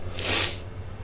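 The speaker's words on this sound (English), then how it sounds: "No, I don't have that Aussie flu thing, it's just sneezing." A single short sneeze bursts out early and quickly fades, close and moderately quiet, with no other voices around it.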